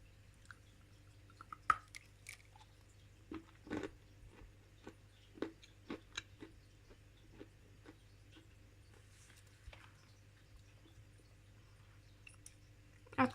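Dry Lavender clay is bitten and chewed up close, producing sparse crisp crunches and crumbly clicks spaced irregularly over quiet, with a faint steady low hum beneath.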